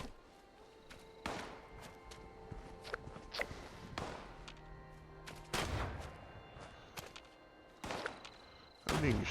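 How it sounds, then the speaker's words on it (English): Gunfire in Fallout 76 rings out as sharp, scattered shots, some distant and some closer, at irregular intervals over a low ambient hum, with occasional thuds mixed in. "I'm being shot at, but I honestly do not know from where."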